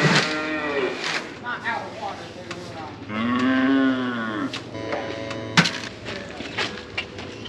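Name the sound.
cattle mooing on a farm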